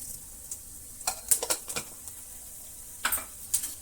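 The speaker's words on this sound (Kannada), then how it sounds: "1 ಸ್ಪೂನ್ ಉದ್ದಿನಬೇಳೆ, 1 ಸ್ಪೂನು ಕಡಲೆಬೇಳೆ ಸೇರಿಸ್ತಾ ಇದ್ದೀನಿ. ಫ್ರೈ ಆಗಲಿ." Urad dal, chana dal and mustard seeds frying in oil for masala dosa filling, a quiet sizzle marked by sharp scattered pops and spatters in brief clusters, close with no talking.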